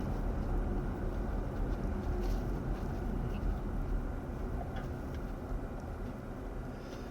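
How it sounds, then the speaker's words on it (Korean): A constant low diesel engine drone with road rumble, heard from inside a moving car, steady and fairly loud, with no voices. "디젤 엔진 특유의 소음이 나는데 그렇게 거슬리지 않네요"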